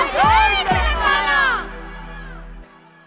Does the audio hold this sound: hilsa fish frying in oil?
no